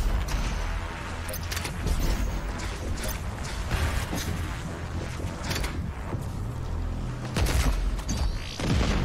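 Rapid gunfire bursts and explosive booms from the first-person shooter game Doom Eternal, dense and loud with repeated sharp shots and heavy impacts throughout, with no speech.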